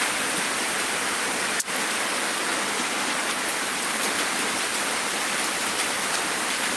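Heavy downpour in the village of Sicini, Gowa regency, a dense, constant roar of rain on surfaces, loud and unbroken, with one brief dip.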